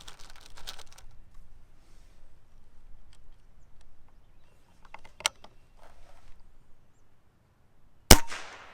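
A MCA S1721 .22 caliber custom airgun pistol fires two sharp, close shots several seconds apart, the second louder, with faint mechanical handling clicks in between and no talk.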